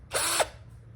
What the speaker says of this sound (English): In order to pull these screws out, they're small torque screws, and I'll be using my drill.